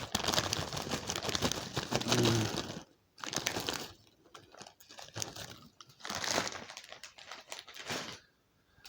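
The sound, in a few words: bag of Walkers Wotsits Crunchy Flaming Hot crisps rustling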